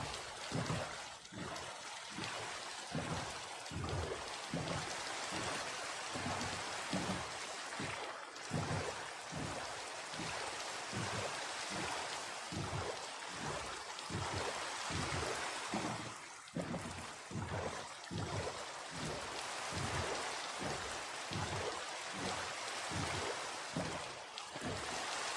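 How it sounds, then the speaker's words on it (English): Steady rain falling in the video game Minecraft, a continuous wash of hiss and patter with regular soft pulses running through it, heard alone for the whole stretch at moderate level. "It's still raining."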